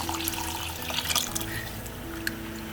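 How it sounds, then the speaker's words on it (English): Stock pours steadily into a pan to make gravy, a continuous close liquid splashing and trickling with a faint hum underneath. "So I now will be adding the stock to this to make this the gravy"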